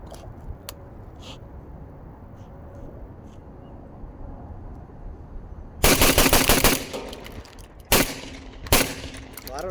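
Two Beretta semi-auto shotguns, a 1301 Tactical Mod2 and an A300, fire side by side outdoors: a loud, rapid string of blasts, then two separate single shots, over steady background noise.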